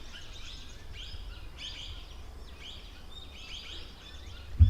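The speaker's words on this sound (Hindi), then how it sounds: "चिड़ियों की आवाज़ आपको आ ही रही होगी।" Parrots and other birds chirp in repeated bursts somewhere in the distance, faint over a soft outdoor hum, ending with a brief low thump.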